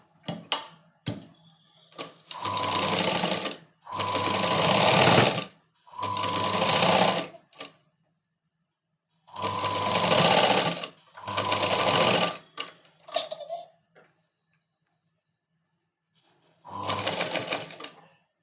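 An electric sewing machine stitches a princess cut blouse in several loud, steady whirring bursts of a few seconds each, separated by quiet pauses, close up with no talk.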